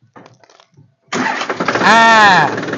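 A tractor engine is started with the key: after faint rustling and a pause, the starter cranks and the engine catches, rising to a loud, close, steady roar that holds to the end.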